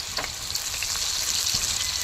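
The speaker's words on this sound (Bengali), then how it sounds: "কেটে রাখা ধুয়ে টুকরো করা আলুগুলি তেলে ভেজে নিচ্ছি" Washed, cut potato pieces fry in hot mustard oil in a wok, giving a continuous dense crackling sizzle at close range with a couple of light stirring knocks, no talk.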